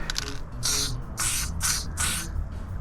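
Spray paint hissing through a small stencil while painting a mural: four loud, close bursts of aerosol spray, each about half a second long, separated by short pauses, with a few faint rattles at the start.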